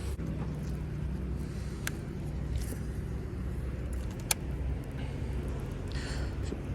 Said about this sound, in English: Also, sorry for the noise. I'm right by a road.